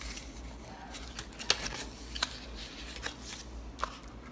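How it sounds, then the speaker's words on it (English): Paper rose petals being folded by hand, quiet soft crinkles and a few sharp crisp paper snaps over low background hum. "Now I get the second cutout that I did. And I repeat the same process. Fold these petals."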